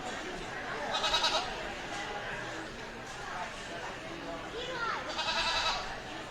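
Goat bleating at a youth livestock goat show, several wavering cries at moderate distance, with faint background chatter between calls.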